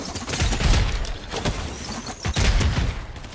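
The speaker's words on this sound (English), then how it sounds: "I'm being shot at." Rapid bursts of gunfire crackle in the Fortnite video game, with a dense volley early on and another cluster of shots later, loud and continuous over a busy background.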